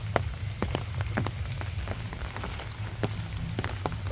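Light rain falls steadily outdoors, a soft even patter on surfaces with scattered individual drop taps close by, fairly quiet and with no one talking.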